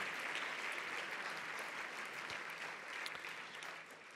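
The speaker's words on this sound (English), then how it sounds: "Let's give them all a round of applause tonight" Audience at a live COSA awards webcast breaks into a sustained round of applause, dense, even clapping from a crowd that holds steady before tapering slightly at the end.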